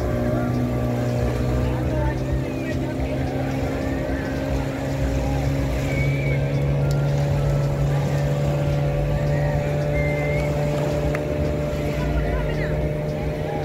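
Speedboat ride on the sea off Rishikonda beach in Vizag, heard as a continuous loud engine drone with steady hull and water rush and some wind, unbroken for the whole stretch.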